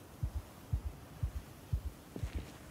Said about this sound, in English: And now I have a nice, bass track of, heartbeat.